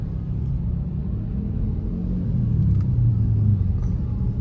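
Riding in a three-wheeled tuk-tuk through Bangkok streets during Songkran, a constant low engine rumble and road drone from inside the vehicle, steady and fairly loud throughout with no talking.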